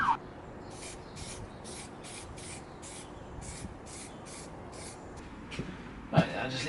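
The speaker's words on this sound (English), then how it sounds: "Okay, let's start priming." Short rhythmic bursts of aerosol spray primer hiss across a BMW R80/7 motorcycle seat, about a dozen evenly spaced puffs at close range, followed by a brief clatter at the end.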